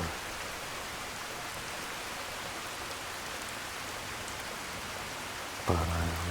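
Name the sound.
rain in the video game Skyrim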